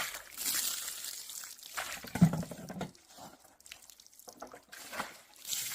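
Water is poured from a bucket outdoors at a forest house, coming in uneven splashing and sloshing bursts, close by and moderately quiet, with short gaps between pours.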